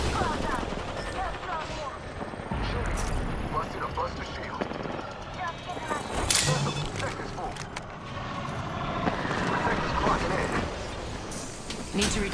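Video game gunfire as a Wraith player comes under attack, with repeated sharp shots and impacts scattered through a dense, busy mix of game noise across the whole stretch.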